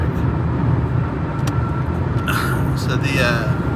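Road traffic passing nearby: a steady, loud rumble of engines and tyres with a brighter whoosh of a passing vehicle toward the end; a person talks over it.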